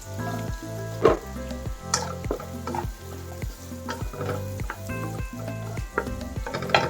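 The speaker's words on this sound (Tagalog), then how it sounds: "pwede na natin ilagay mga suki yung ating bawang" Chopped garlic sizzling in butter in a hot pan for pork patatim, a steady crackling fry broken by rhythmic scraping stirs and light clinks of utensil on the pan, close and without talk.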